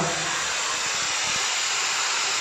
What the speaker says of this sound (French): ça c'est le hammam que j'ai mis en route avant de filmer